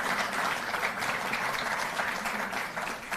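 Steady applause from an audience at a Delhi government ceremony honouring Olympic athletes, a dense continuous wash of many hands clapping at moderate distance, fairly even in level throughout.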